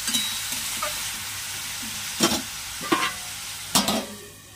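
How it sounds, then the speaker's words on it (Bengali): Onion and garlic fry in oil for a mutton curry, giving a steady close sizzle with three short bursts of scraping stirring near the end. "দেখছেন পেঁয়াজ রসুনটা ভাজা ভাজা হয়েছে, তেল ছেড়ে দিচ্ছে"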